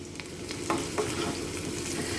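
Close-up frying of shallots in hot oil, a steady sizzle with occasional crackles and pops, continuous and fairly loud, no talking.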